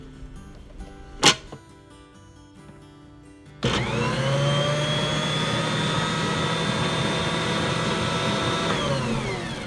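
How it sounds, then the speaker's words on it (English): Stand mixer starting up to mix bread dough ingredients: a sharp knock, then a loud, steady motor whine and hum that runs on to the end with no talk. "I put the lid on the mixer and ran it for just a few seconds to get it all mixed together"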